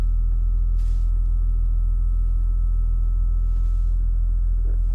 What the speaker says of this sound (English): see if you guys can hear the fuel pump